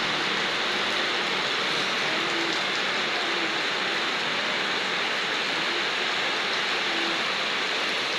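Heavy rain pours down in a steady, dense hiss that fills the whole clip without a break, loud and close, with no talking.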